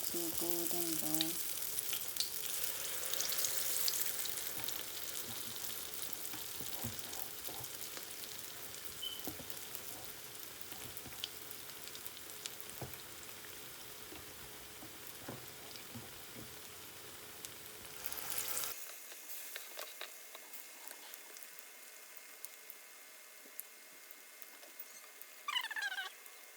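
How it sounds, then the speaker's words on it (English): Nigerian akara bean fritters frying in hot oil, a steady close sizzle and crackle that holds for most of the stretch, then drops to a thinner hiss with scattered pops near the end. "Okay, so I'll fry until golden brown."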